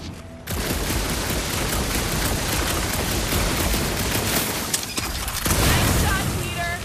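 Gunfire rattles in the Guardians of the Galaxy game, a dense, sustained barrage of shots and booms with mechanical clatter, loud and continuous, with voices speaking over the fight.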